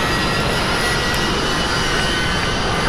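Steady, loud roar of a Falcon 7X business jet's engines while taxiing in the X-Plane flight simulator, a continuous broadband whine and rumble with no breaks.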